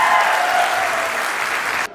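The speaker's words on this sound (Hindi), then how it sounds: "अपने लिए भी एक बार जोरदार तालियां।" Steady, loud applause from a crowd at a meetup event fills the space continuously, then cuts off abruptly near the end.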